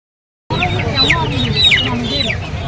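Chickens cluck loudly and nearby at the busy Pallavaram Friday market, their steady squawks and clucks layered over a constant crowd murmur.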